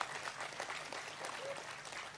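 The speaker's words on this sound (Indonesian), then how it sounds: "Tepuk tangan." A seated audience at a talk by Cak Nun bursts into steady, dense applause, a continuous wash of many hands clapping at moderate distance with a few voices mixed in.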